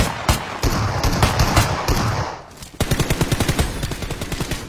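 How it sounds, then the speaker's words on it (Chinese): Gunfire in the mobile battle royale Peacekeeper Elite on the resort island map: loud, rapid automatic bursts, a short lull, then a steady stream of closely spaced shots. "跑过来了，那就开枪打。"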